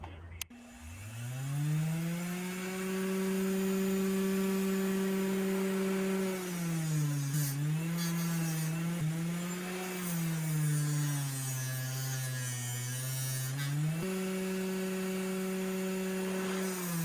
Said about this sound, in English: I'm gonna give the knife the initial cleaning with my fabric wheel and my 3-inch grinder